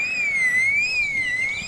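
An electronic garden alarm wails with a high, smoothly wavering siren-like tone, loud and continuous, with no talk over it.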